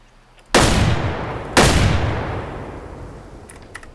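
Two loud rifle shots in the hunting video game Way Of The Hunter, about a second apart, each a sharp crack followed by a long rolling echo that fades slowly, with faint clicks afterward.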